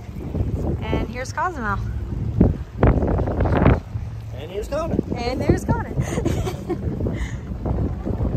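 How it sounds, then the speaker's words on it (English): Strong wind rumbles and buffets the microphone throughout while people talk close by, on a cruise stop in Cozumel, Mexico. "It's super windy."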